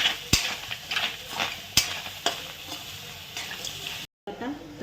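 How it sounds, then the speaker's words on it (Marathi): Raw mango frying in spiced tempering oil with cloves and peppercorns, a sizzle broken by sharp stirring clinks and scrapes, while someone talks over it. "चला आता फोडणी करून कैरी टाकून घ्यायची"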